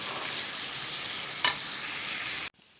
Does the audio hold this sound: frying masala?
yes